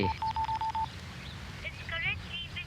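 A phone number is dialed in a movie scene, a quick run of six or seven short touch-tone beeps in the first second, followed by background hiss and faint voices talking.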